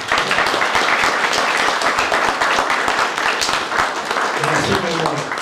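Audience at an indoor ceremony for a French youth, sports and community-service medal claps steadily throughout, a dense patter of many hands with some voices mixed in near the end.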